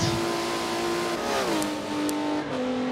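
Ford GT Le Mans race car engine in Forza Motorsport 7, a loud close-up engine drone that holds steady, drops pitch as the car shifts, then carries on with a brief squeal near the end.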